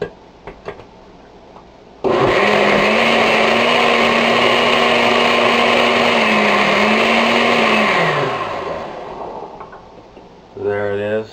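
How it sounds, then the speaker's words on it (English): A blender whirs loudly through raw avocado and tomato soup, a steady high motor drone running about six seconds before winding down, with brief talk before and after. "So let's blend the rest of this up."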